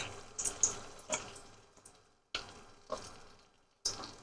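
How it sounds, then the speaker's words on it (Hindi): Curry leaves dropped into hot oil for a kadhi tempering, giving a few separate sharp crackling bursts that fade quickly, with quieter gaps between them and no voices. "सबसे पहले तड़के में हम डालेंगे कड़ी पत्ता"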